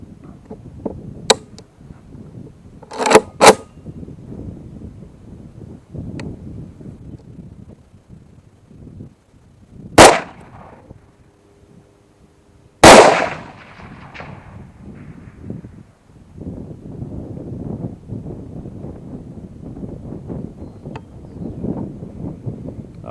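A PSAK-74 AK rifle fitted with an ALG trigger fires at a paper target outdoors: a few sharp, spaced reports ring out over wind noise and rustling, two of them especially loud and close.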